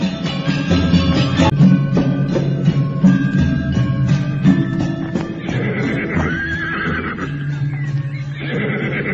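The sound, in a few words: group of horses ridden and approaching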